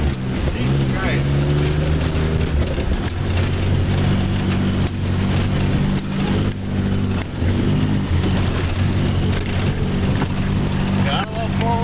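A four-wheel drive vehicle pushes through deep snow drifts in a snowstorm, its engine droning steadily and loud up close with shifting tones, while people talk over it throughout.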